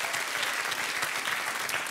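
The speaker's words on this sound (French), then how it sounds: "On vous applaudit." TV studio audience applauding as guests are welcomed on a French dating show, with continuous, full, even clapping throughout at steady loudness.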